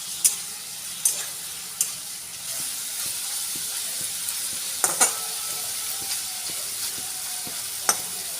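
Chicken frying with garlic and ginger, a continuous soft sizzle under sharp scattered clinks and scrapes of a stirring spoon, close by, no talk.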